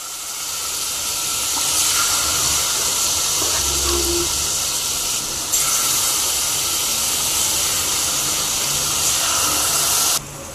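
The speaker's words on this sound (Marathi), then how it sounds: "त्यामध्येच आता आपल्याला एक जे चिकनचे पीस आपण मॅरिनेट करून ठेवलेले होते ते आपण टाकून देऊयात।" Marinated chicken pieces sizzling in melted butter for butter chicken, a loud steady hiss of frying that holds on without a break.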